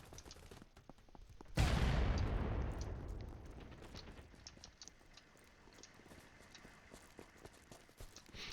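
Video game gunfire and explosions: a sudden loud burst of blasts and rapid shots that decays over a couple of seconds, followed by quieter continuing battle noise with scattered distant shots.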